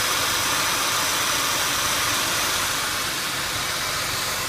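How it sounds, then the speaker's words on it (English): A 2003 Ford Taurus 3.0-liter overhead-valve V6 runs at a steady idle, a constant close, loud engine drone with no talk over it. "This is a 2003 Ford Taurus with an overhead valve, 3-liter V6."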